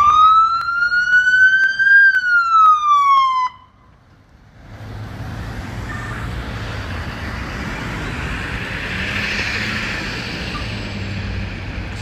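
An AMR ambulance siren wails loud and close in a rising and falling sweep, cuts off after a few seconds, and gives way to steady traffic and street noise.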